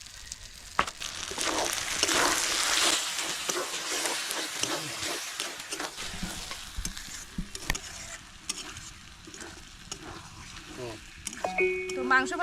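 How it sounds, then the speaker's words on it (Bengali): Goat tripe meat frying in a pan, giving a steady close sizzle and hiss with occasional stirring scrapes; someone speaks over parts of it. "তো মাংস ভাজা হয়ে গেছে"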